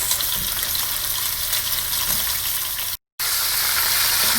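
Shrimp frying in a pan on a high flame, a loud steady sizzle and crackle of hot oil heard close up, with a brief cut of silence near the end.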